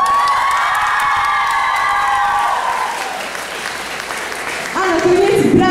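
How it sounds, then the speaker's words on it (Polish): Applause and cheering from a Valentine's concert audience for a song performer, starting under a sustained sung or held tone, then continuing as broad clapping with shouts and a louder swell near the end. "teraz brawa dla wykonującego piosenkę"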